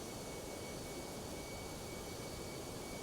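Jet engines of a Toliss Airbus A319 climbing after takeoff in X-Plane 12 make a faint, steady broadband roar with a thin whine, continuous and unchanging.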